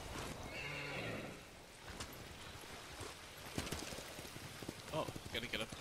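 A horse in Ghost of Tsushima lets out a clear whinny near the start, with hooves clip-clopping and rain falling around it, followed by scattered footsteps and faint rustling, all fairly quiet.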